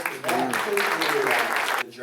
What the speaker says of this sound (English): give it a round of applause for